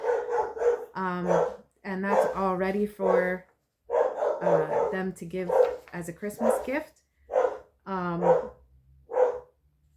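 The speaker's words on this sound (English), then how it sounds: "sorry for the dog barking in the background" A dog barks in the background of a home, mostly masked beneath a person talking steadily in the foreground.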